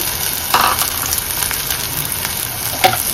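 Onion, tomato and ground masala paste sauté in oil in a pan, giving a steady close sizzle with brief scraping stir strokes and no talking.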